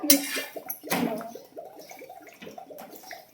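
Water runs into a bottle from a tap in a home kitchen, a steady close gurgling flow with a couple of louder splashy bursts at the start.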